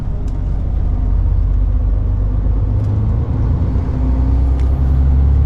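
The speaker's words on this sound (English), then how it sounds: "low loader with the car transporter" A heavy low loader truck carrying a car transporter rumbles past close by, its deep engine drone loud and sustained with faint hissing above, and no one speaking.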